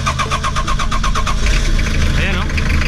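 A car engine fresh from a general overhaul, with covers not yet fitted, cranks and catches, then runs with a loud, rough, clattering idle, with a person speaking over it.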